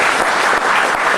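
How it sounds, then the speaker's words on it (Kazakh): Dense applause from a restaurant audience at a comedy event fills the whole short stretch with continuous close clapping and no pauses. "Аида ресторанының жамағаты үшін бір шапалақлар болсын"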